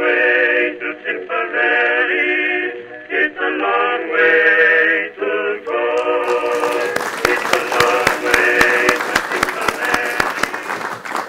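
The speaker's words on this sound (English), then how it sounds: "Nice to get applauded before you've said anything, isn't it?" At a conference lecture, an audience sings for several seconds before bursting into loud, sustained applause with dense, sharp claps that fill the room.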